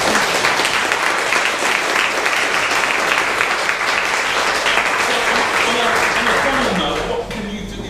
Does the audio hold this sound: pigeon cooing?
no